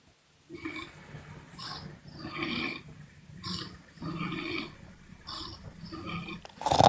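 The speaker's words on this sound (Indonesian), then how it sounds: "Itu ada suara babi tuh bang." A pig grunting in a run of throaty, rough bursts, about seven close, fairly loud grunts in an uneven rhythm separated by brief pauses.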